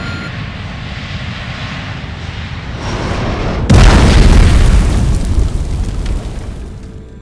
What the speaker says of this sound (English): After a deafening explosion, silence fell over the Alps.